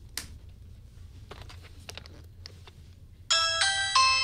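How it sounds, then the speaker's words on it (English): A Ring video doorbell chime rings out loud and clear near the end, a bright melodic ding-dong that starts abruptly after a few faint clicks and taps in a quiet room. "Is that the Ring? All right, somebody's at my door."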